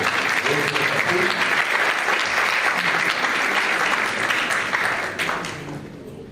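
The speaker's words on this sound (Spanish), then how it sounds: "Bueno, aplausos nuevamente al antropólogo" Audience clapping for an anthropologist at an academic lecture event, a dense sustained round of applause that holds steady for several seconds before tapering off at the end, with some voices underneath.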